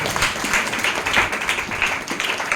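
A church congregation applauds with a steady, dense wash of clapping from many hands that continues throughout without a break.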